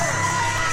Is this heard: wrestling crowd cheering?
yes